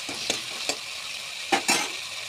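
Rohu fish head being stirred in a hot pan with garlic, ginger and cumin paste: a steady oily sizzle with several distinct scraping strokes of the spoon, close and alone.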